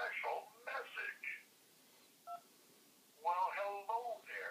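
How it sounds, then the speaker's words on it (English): One short telephone keypad tone for the number 2 sounds during a quiet pause in a phone call, with people talking before and after it. "Just press the number 2 on your phone to hear my special message."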